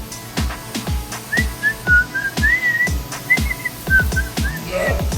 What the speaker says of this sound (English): Supposed to whistle while you work.